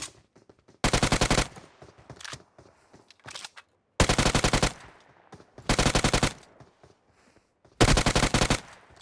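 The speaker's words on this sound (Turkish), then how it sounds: "Sağdan adamlar sıkıyor." Automatic gunfire in the mobile shooter PUBG Mobile: four loud, sharp bursts of rapid shots separated by quieter gaps, with fainter distant shots and clicks in between.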